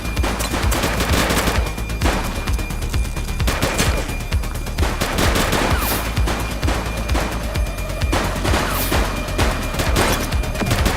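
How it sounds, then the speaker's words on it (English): Gunfire crackles through a police shootout in The Precinct, repeated rapid shots and bursts rattling loud and close for the whole stretch, with occasional heavier booms. "He's shooting!"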